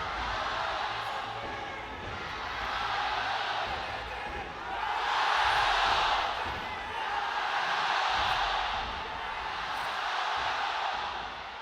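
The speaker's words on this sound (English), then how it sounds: "the crowd in Xi'an for tonight is absolutely insane" A packed esports arena crowd in Xi'an roars and cheers during an LNG vs EDG LPL regional qualifier match, a dense wash of voices that swells and recedes in broad waves.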